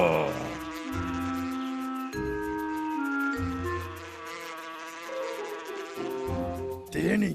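Cartoon bees buzz in a Tamil animated story about bears: a thin, insect-like buzz sits under sustained musical tones that change pitch, with a brighter swell near the end.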